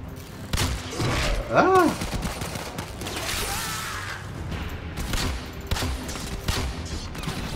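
Rapid gunfire crackles in a Warframe firefight, bursts of shots and thuds aimed at the player, loud and continuous while a person groans and exclaims over it.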